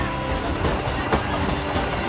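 A train rumbles past close by at Prinsep Ghat railway station in Kolkata, a loud, continuous low roar of wheels and carriages with faint rhythmic clatter throughout.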